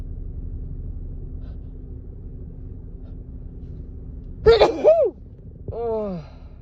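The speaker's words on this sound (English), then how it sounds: "please just let me sneeze." A woman with a cold lets out a single loud sneeze after a quiet stretch over low background rumble, followed a moment later by a short breathy gasp.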